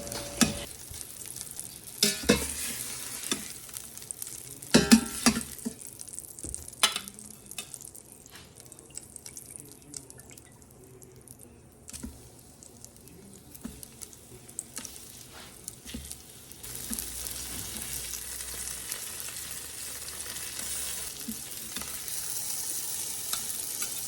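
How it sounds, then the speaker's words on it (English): Hamburger patties searing in an Instant Pot, a low steady sizzle with occasional crackles and scrapes, moderately quiet and continuous with no talking. "I allow them to get a light sear on one side before removing them to a plate and repeating the same process for the other side"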